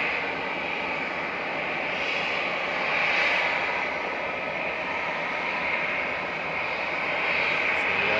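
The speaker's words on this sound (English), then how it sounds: "this EasyJet in front of us has been sat here for about 20 minutes making a lot of noise" An EasyJet airliner sits on the ground at Manchester Airport with its jet engines running, a steady loud roar and high whine that swells slightly at moments.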